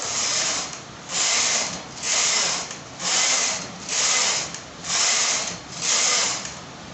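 A knitting machine carriage sweeps back and forth across the needle bed knitting rows, seven even rasping whooshes in a steady rhythm with brief pauses between passes, close and loud.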